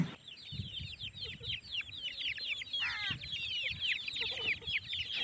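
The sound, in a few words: chickens clucking on a farm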